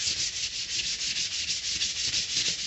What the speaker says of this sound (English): you just take the 120, and you just want to sand it out.